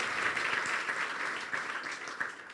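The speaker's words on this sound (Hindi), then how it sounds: "यीशु के जलाल के लिए, उसके कलाम के लिए जोरदार तालियां बजाएंगे" A church congregation at a sermon applauds loudly in praise, a sustained, fairly distant wash of many hands clapping with occasional sharper claps poking through.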